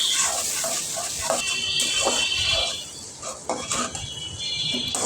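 Onions fry with whole spices and a little fenugreek powder in a pan for chicken bhuna, giving a soft steady sizzle broken by clinks and scrapes of a spoon stirring against the pan.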